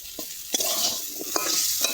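Potatoes fry in a pan for an aloo posto curry, a steady close sizzle broken by several soft scraping knocks as a spatula stirs them.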